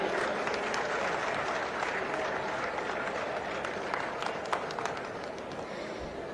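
Steady, dense applause from a crowd at a Mahatma Jyotiba Phule Jayanti ceremony in Rajasthan, welcoming the chief minister, a fairly distant, continuous wash of clapping with faint voices mixed in.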